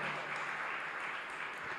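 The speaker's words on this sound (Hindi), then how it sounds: "एक बार पंडित जी के लिए और बच्चों के लिए जोरदार तालियां बजाइए।" An audience at a religious discourse gathering claps together, a short, even wash of applause with no distinct voices.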